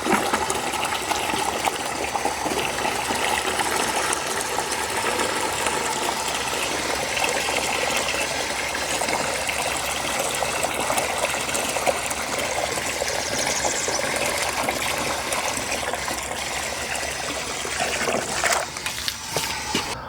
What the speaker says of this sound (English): So this is our water bucket with the handle. Let's go fill it up and test it out.